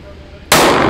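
A single sharp, very loud gunshot from a small SCCY CPX-2 carry pistol cracks out after a half-second of quiet, with the blast ringing on to the end.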